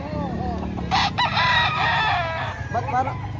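A rooster crows loudly and close by at a market in Lipa, Batangas, its call rising and drawn out against steady crowd noise and background voices.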